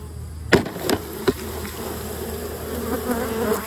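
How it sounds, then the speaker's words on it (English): Honey bees buzz loudly as field bees take off from a shaken frame, a dense steady drone punctuated by a few sharp knocks near the start. "Now the field bees are gonna fly away."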